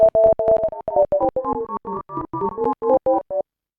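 A granular effect with delays, built in Bitwig's FX Grid, chops a tone into short pitched grains that stutter in a quick, steady rhythm, the pitch stepping up and down across the bursts before stopping, with nothing else heard.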